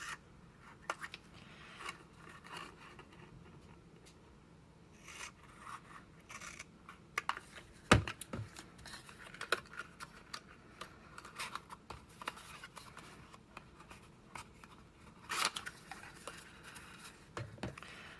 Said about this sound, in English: I'm going to do a little surgery here on these tabs. I'm going to cut them down even shorter.